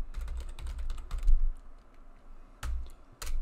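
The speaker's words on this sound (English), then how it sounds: "We'll save it straight away by pressing Ctrl S and typing chessboard." Brisk typing on a computer keyboard while saving a Blender file, with irregular clusters of close, crisp key clicks, a short pause, then a few more keystrokes.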